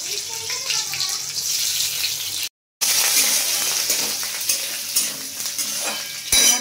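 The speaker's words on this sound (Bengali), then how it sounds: "কড়াই দিলাম সাদা তেল, আর একটু জিরে, সাদা জিরে ফোড়ন দিলাম, দিয়ে দিচ্ছি কিছুটা আদা" Cumin seeds, grated ginger and chopped chili frying in white oil in a wok, a steady bright sizzle with some stirring, close and continuous apart from a brief gap, voices faintly underneath.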